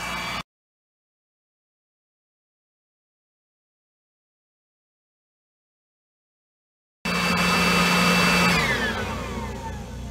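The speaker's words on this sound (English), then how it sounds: "I'm gonna try to turn the blower on to right here" An electric blower forces air into a clogged iron-smelting furnace made to turn rock into iron. A long silence comes first, then a loud whirring whine starts near the end and falls slowly in pitch.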